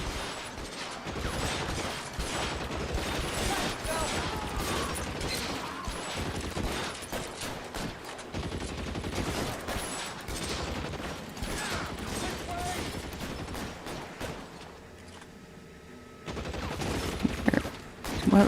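Gunfire in the video game L.A. Noire: a dense, continuous burst of rapid shots and crackling impacts, loud and close, going on almost unbroken before a brief lull and a few final blasts, with voices talking over it.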